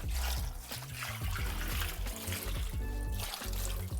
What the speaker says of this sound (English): Now this is the developer. I'm just going to splash it over and then start using my hand to rub it all in.